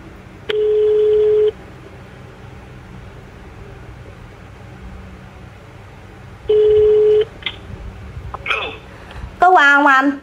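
A phone call is placed: a steady dial or ringback tone sounds twice with a long pause between, fairly loud, followed by a brief burst of chirpy ringing or ringtone at the end, with background noise throughout.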